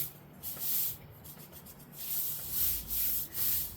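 A thick Christmas card layer is rubbed down by hand to stick it in place, giving soft, dry scuffing strokes in several close bursts with short pauses between them.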